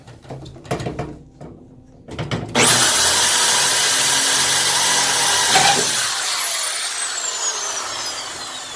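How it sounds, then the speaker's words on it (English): A power tool drives a screw into a vending-machine delivery door: a few short knocks and taps, then a loud, close, sustained whir lasting several seconds that slowly winds down as the motor spins to a stop. "we're going to do that screw on the top"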